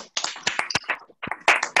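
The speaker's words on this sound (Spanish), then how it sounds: "Aplauso para todos" A handful of people clap unevenly in scattered bursts with short gaps, close by, in a small informal gathering about Patagonian museums.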